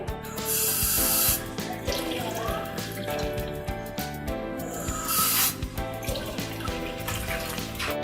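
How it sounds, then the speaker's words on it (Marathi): Water runs and splashes steadily into a pot of grated beetroot for pav bhaji for several seconds, with a louder gush near the start and again midway. "आता आपण ह्याच्यामध्ये थोडं पाणी घालून कुकरला लावणार आहे"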